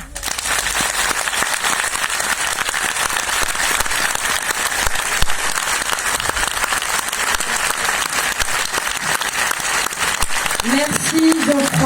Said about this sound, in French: Et on peut doublement l'applaudir pour sa partition aussi, Olive.